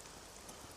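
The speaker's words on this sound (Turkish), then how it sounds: "Bu lanet olası yağmurun sesi yüzünden hiçbir şey duyamıyorum." Steady rain falling on surfaces in a 1940 western setting, a continuous even hiss with soft patter, no voices.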